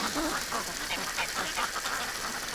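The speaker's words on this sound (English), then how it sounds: "Now we got a Muscovy in the water." Muscovy and other ducks quack in shallow water on a snowy winter day, a busy run of short, nasal calls overlapping at close range with no talking.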